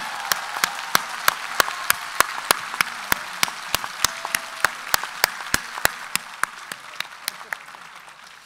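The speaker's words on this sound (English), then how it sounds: "now is time to applause to each other for" A conference audience at a library congress closing session claps in steady unison, each crisp beat sharp and evenly spaced, about three per second, the rhythm holding for several seconds before easing slightly toward the end.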